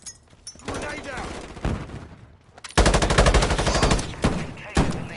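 Rapid automatic gunfire and bursts of shooting in a Call of Duty Modern Warfare multiplayer match, loud and dense, with several heavier sustained volleys and a sharp blast near the end, mixed with voices calling out.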